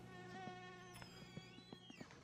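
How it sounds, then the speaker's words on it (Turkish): A steady, droning fly buzz in a video game runs throughout, close and continuous, with occasional small clicks and taps over it; no one speaks. "Bu sinek sesinden kurtulalım mı?"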